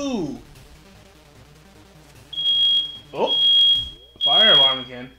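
Fire alarm in the video game Sonic Frontiers, sounding three loud, steady high-pitched beeps in a row, each overlapping a voice speaking over it.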